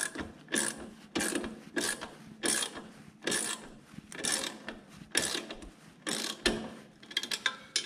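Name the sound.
screwing in snow blower carburetor screws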